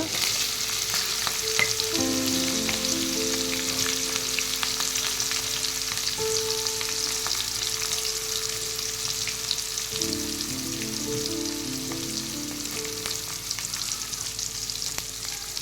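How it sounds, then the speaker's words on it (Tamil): Onions with green chillies frying in a pan for a Tamil-style fish curry: a soft, continuous sizzle with occasional stirring scrapes, while a faint tonal hum drifts in the background. "நல்ல ப்ரௌனிஷ் ஆகட்டும். அது வரைக்கும் நல்லா ஃப்ரை பண்ணுங்கள்."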